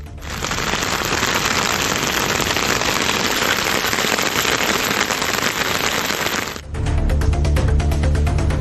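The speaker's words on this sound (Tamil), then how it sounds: "மழை கொட்டி தீர்த்தது" Heavy rain pouring down in Tamil Nadu, a dense steady roar of hissing downpour that stays loud for most of the clip before cutting to a different, busier ambience near the end; no voices.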